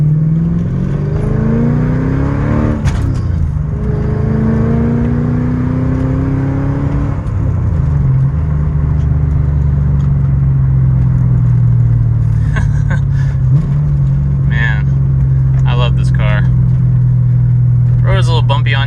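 A manual Mercedes-Benz E55 AMG drives along a bumpy road, its engine droning steadily and rising in pitch as it accelerates through gears, with a continuous low rumble and a few light knocks and rattles later on.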